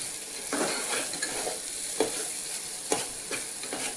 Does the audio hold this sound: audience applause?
no